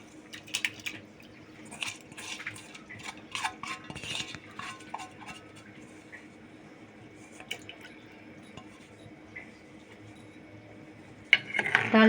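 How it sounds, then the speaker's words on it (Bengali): Mung and masoor dal stirred in a clay pot, with soft scraping and light clinks of a spoon against the pot, a few drips and small taps, mostly quiet with a sharper clatter at the end. "ডালটা একটু নেড়ে দিচ্ছি।"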